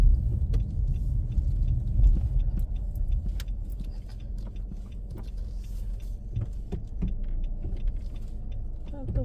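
A car passes by on the road, a steady engine rumble that stays close and loud throughout, with faint jangling and clicks on top. It is outdoors on a cold day, and no one speaks.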